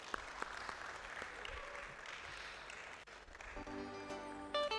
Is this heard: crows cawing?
no